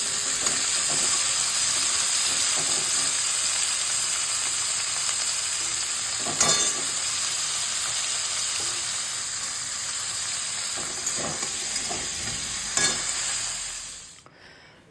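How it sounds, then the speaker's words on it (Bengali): Vegetables and boiled semolina pasta fry in olive oil in a pan for cheese pasta, giving a loud, steady sizzle and hiss with occasional stirring scrapes that fade out at the end. "সবজিটাকে ভেজে নেব। পাস্তাটা ভাজতে হবে"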